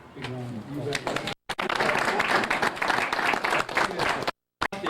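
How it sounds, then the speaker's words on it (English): Applause from the crowd at an army reunion fills the room, a dense patter of many hands clapping with a short break partway through, preceded by a moment of talk. "I think we ought to give him a big round of applause."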